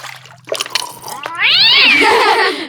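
A cat meows once, loud and close, a drawn-out rising and falling call after some brief soft noises and a faint trickle of water.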